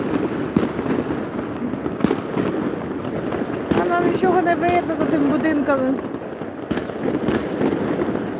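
New Year fireworks pop and crackle repeatedly at a distance, sharp bangs scattered over a noisy outdoor background, while people talk nearby.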